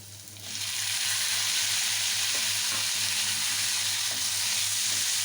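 Two green chillies and tomatoes hitting hot oil in a pan, a sudden loud sizzle that jumps up after a moment and holds as a steady close hiss with faint stirring clicks.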